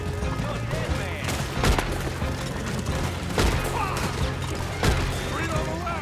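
Gunfire crackles through a shootout in Red Dead Redemption 2, several sharp shots and bursts at irregular intervals over a busy, rumbling game mix, with voices shouting underneath.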